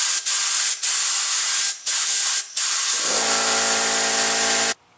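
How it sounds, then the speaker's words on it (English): A paint spray gun shoots out cleaning thinner in several loud, close hissing bursts separated by brief pauses, ending in a longer sustained spray with a tonal whine. "And what you want to do is just swish it around some and then just shoot it out."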